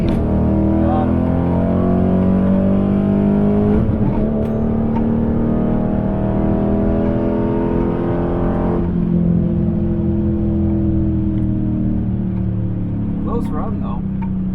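A Dodge Challenger R/T with a Magnaflow catback exhaust roars at a dragstrip, a loud, continuous engine drone heard from inside, with the pitch climbing and dropping through gear changes as the driver talks over it.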